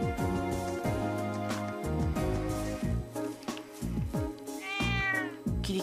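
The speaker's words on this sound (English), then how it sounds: "Kitty cat." A cat meows in the video game Trails of Cold Steel, one clear rising-and-falling call near the end, over bright plucked game music with a steady bass line.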